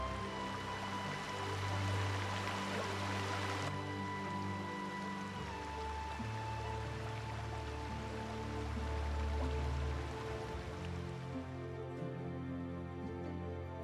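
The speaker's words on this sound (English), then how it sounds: "filling daily life between the houses with the sound of a waterfall and a fast" Cold karst-cave water streams through a settlement between houses, giving a steady, fairly faint rushing flow that continues evenly throughout without talk.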